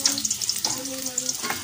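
Garlic frying in a pan for adobo ribs gives a steady close sizzle with faint scraping and stirring, heard alone with no talk.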